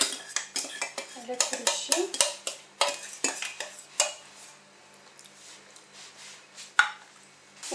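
A spoon clinks and scrapes against a dish while pasta gratin ingredients are mixed, a quick irregular run of clatters that slows, ending with one sharp knock, under a brief spoken word.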